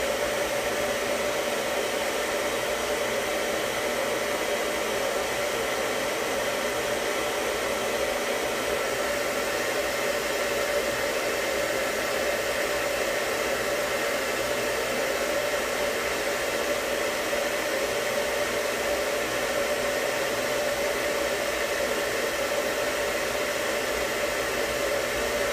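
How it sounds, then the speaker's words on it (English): A hair dryer blows hair dry in a salon, a constant loud broadband rush of air with a steady motor whine running unbroken from start to finish, close to the listener and without talk. "Do a little blow dry."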